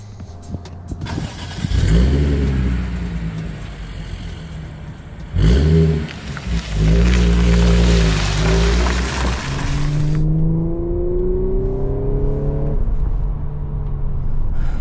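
A tuned Audi S5 running on LPG revs and accelerates hard through several gears, its pitch climbing in repeated sweeps, loud and close.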